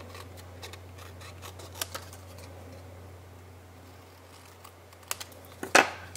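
Scissors snipping around a stamped paper image, with soft scattered ticks and rustles, then a louder, crisp burst of cutting near the end, close by and without speech.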